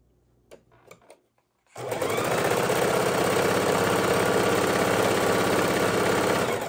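A sewing machine stitches quilt butterfly patches in one long continuous run, close and loud, after a few faint handling knocks at the start.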